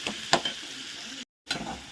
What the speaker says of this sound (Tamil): வெங்காயம் தக்காளி பச்சை மிளகா போட்டு வதக்கிருக்கேன்.